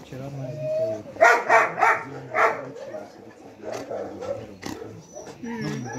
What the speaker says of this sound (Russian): Такая красивая собака.